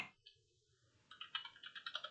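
Quick bursts of keystrokes on a computer keyboard as a command is typed, a faint tap early then a dense run of clicks in the second half, close and clear with no talking.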